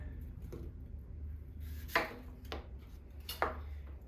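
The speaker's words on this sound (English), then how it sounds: "what I like to do is basically just go and work around the apple, cutting the core out" A kitchen knife works around a peeled apple to cut out the core, giving a few soft, separate cutting and tapping sounds against a board at an uneven pace, close by and quiet, with no talking.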